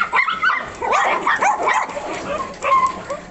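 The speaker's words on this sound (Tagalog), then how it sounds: "Baka dahil sa atin maingay yung mga aso." Several dogs bark and yip in quick bursts, close and loud, with some whimpering between barks.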